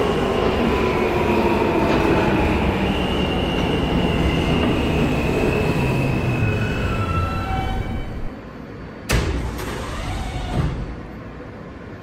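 A Roblox-game R160A G subway train on the IND Crosstown Line rumbles steadily along the tracks, with rising wheel whine and hiss, then a sharp clank and a quieter rolling stretch near the end.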